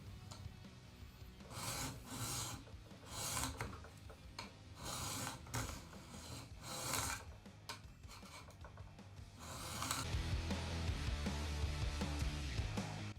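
Repeated rasping strokes of a sharpening tool drawn along the nicked blade of a pair of scissors, about seven close, loud swipes in a steady rhythm, then a denser continuous grinding toward the end.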